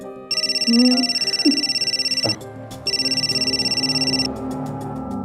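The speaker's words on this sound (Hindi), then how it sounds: "किसका फोन है?" A telephone rings in two long electronic bursts separated by a short pause, loud and close, with faint background music underneath.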